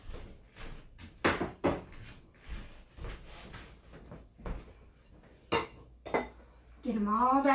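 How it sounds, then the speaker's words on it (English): Banana bread batter for chocolate chip banana bread mixed in a bowl, with irregular clinks and knocks of a utensil against the dish and scraping sounds, close by, with a voice speaking briefly near the end. "Go ahead, start mixing."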